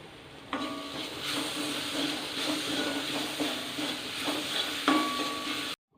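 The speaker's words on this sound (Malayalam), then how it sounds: "ഇതിലേക്ക് ഇനിയും തക്കാളി ചെറുതായിട്ട് അരിഞ്ഞത് ചേർത്ത് കൊടുക്കാം തക്കാളി അതിൽ കിടന്ന് ഒന്ന് വേഗണം" Finely chopped tomatoes frying in a pan for rasam: a steady, loud sizzle and hiss, with soft stirring scrapes throughout, cutting off abruptly just before the end.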